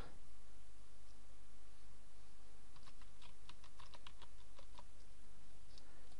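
Someone types a password on a computer keyboard, a short run of quick distinct keystrokes over a steady background hiss, then a pause and a couple more taps.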